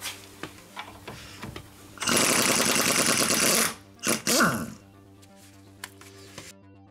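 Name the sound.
wrench removing the steering ball joint nut, size 17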